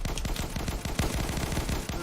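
Rapid automatic gunfire in the shooter game Testing Grounds, a dense burst of closely spaced shots running without pause, loud and close, no talking.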